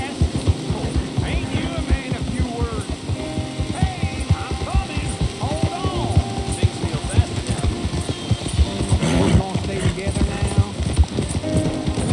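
Rapid horse hoofbeats clatter in a steady rhythm in the video game Red Dead Redemption 2, loud and close, with creaking tack and voices talking over the galloping.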